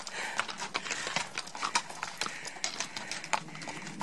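Hooves clip-clop steadily as horses walk at an easy pace on a trail in the Superstition Mountains, sharp irregular clops up close over faint outdoor background.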